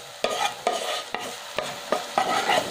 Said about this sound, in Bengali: এবার আমি এর মধ্যে ওই পালং শাকের পেস্টের মধ্যে এই ছানাটা মিশিয়ে দেব।